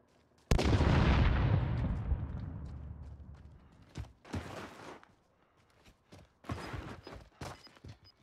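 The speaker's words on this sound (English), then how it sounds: "Oh, they're shooting each other." Gunfire in Call of Duty: Warzone opens with one loud, booming shot that rings out and decays slowly, followed by a series of quieter, more distant cracks and pops scattered at irregular intervals.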